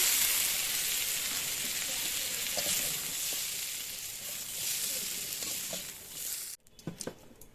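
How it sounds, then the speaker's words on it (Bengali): Steady sizzling of flat beans, radish, cabbage and onion flowers frying in oil for several seconds, then the hiss cuts off abruptly, leaving a few clinks and scrapes. "এই যে সিম, মূলা, পাতাকপি আর পেঁয়াজের ফুল একসাথে ভেজে নিব"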